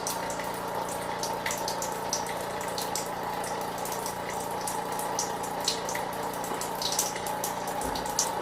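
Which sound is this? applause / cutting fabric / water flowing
water flowing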